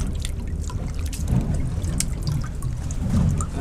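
Skate wings are rinsed in seawater at the side of a boat, giving a steady close trickle and slosh of water with small splashes throughout.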